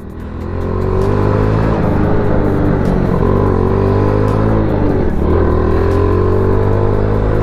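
A motorcycle engine revved up from idle, settling into a loud, close, sustained high-rpm roar with slight wavering pitch throughout.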